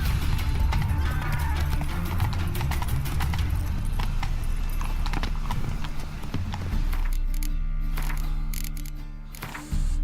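A horse gallops in The Witcher 3, with rapid rhythmic hoofbeats thudding continuously over ambient game sound that thins out toward the end.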